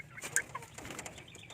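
Rhode Island Red chickens around four and a half months old give a few soft, close clucks and short chirps in a quiet pen, brief and low in level.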